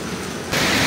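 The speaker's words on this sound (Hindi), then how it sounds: "बारिश हो रहा है" Heavy rain pours down as a dense, steady hiss that suddenly grows louder and fuller halfway through the brief moment, with no speech.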